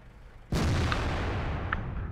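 A tank cannon in World of Tanks fires at an E100's front hull, a single loud booming shot that bursts in suddenly and rolls on with a sustained rumbling tail, with no talking.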